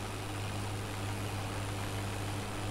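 A Swaraj 855 tractor idles in Farming Simulator 22, a steady low engine hum droning evenly and quietly without change, with no voices.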